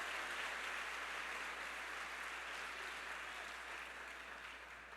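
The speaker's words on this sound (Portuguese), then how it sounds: "Se for para aplaudir Jesus, aplaude com força" A church conference congregation applauds in a continuous distant wash of clapping, steady and fairly faint, slowly easing off over several seconds.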